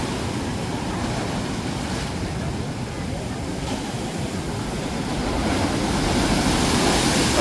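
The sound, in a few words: strong waves at Davao Gulf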